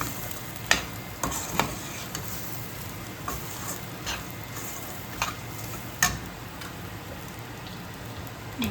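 Masala paste for a prawn curry frying in oil, a soft continuous sizzle with a few sharp pops and crackles scattered through it, with no talk.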